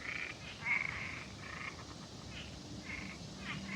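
Frogs croak at a lake, a faint chorus of repeated rasping calls in irregular bursts over a soft steady outdoor background, heard from a distance.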